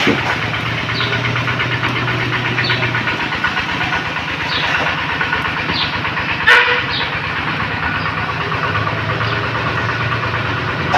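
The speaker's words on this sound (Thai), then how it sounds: "พ่อจะเอารถไถนามาเก็บขยะนะครับ" A farm tractor engine runs continuously close by in the rain, with a steady rumble, a low rhythmic chug and occasional clanks and clicks over it.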